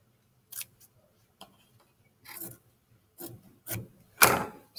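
Scissors roughly cutting a square of fabric for a seam allowance sample, heard as several short separate snips and rustles, fairly close and quiet, with no talking.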